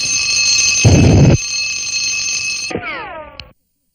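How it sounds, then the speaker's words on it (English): A cartoon alarm clock rings loudly in a continuous metallic jangle, briefly joined by a burst of noise, then stops and gives way to descending whistling tones before silence. "the alarm went off"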